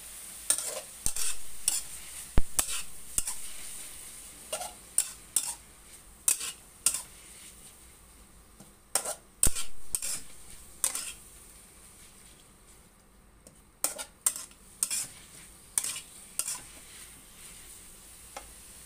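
Water spinach stir-fried in a pan with sugar and fermented soybean paste: a spatula scrapes and clacks against the pan in irregular bursts over a soft background sizzle, pausing briefly partway through.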